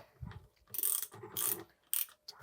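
A regular bolt being tightened on the air spring of a 2023+ Rockshox Pike fork during a service, giving three bursts of close, bright ratcheting clicks separated by brief pauses.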